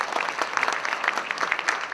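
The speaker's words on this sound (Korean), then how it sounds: "큰 박수로 환영해 주시기 바랍니다." Clapping fills a room at a Yonsei MBA alumni evening, a bright, brisk round of audience applause for about two seconds that cuts off abruptly at the end.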